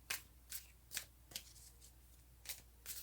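Tarot cards shuffled by hand in a quiet room, a series of soft crisp riffling flicks about every half second, close and faint.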